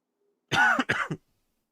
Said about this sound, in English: Time to start coughing.